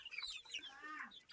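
Chickens and chicks clucking outdoors in a village garden after rain, a few soft overlapping clucks and chirpy calls, moderately near, heard alone without talk.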